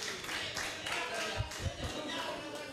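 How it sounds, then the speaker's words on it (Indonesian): Hands clap during a team game show, a few scattered claps rising with light transients over a steady background of talk and room noise. "Tepuk tangan lu dong."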